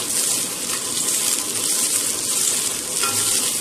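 Onions and dried red chillies sautéing in a pan for chicken curry, a dense, loud sizzle with light stirring scrapes, heard close and continuous with no voices.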